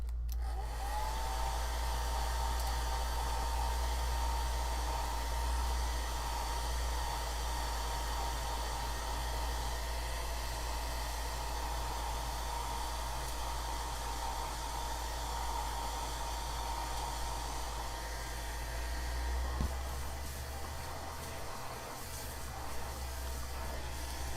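Steady, loud hair dryer blows continuously while drying watercolor paint, a constant broadband whoosh with a low motor hum running unbroken throughout, with no talking over it.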